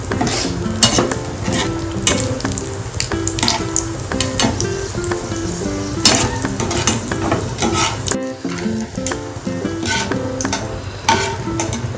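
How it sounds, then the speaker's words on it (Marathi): Dry fruits being dry-roasted in a pan until golden, with repeated scraping and clattering of a spatula against the metal pan over a steady low sizzle, close up, with a brief lull near the end. "हे आपल्याला गोल्डन होईपर्यंत भाजायचे"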